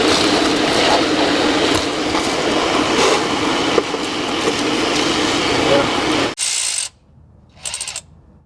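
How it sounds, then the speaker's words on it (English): A battery-powered DeWalt electric ratchet works on the engine of an abandoned Dodge camper pickup, giving a steady mechanical whirr, then a short sharp buzzing burst near the end, with talk in the background. "I love this electric battery-powered DeWalt ratchet"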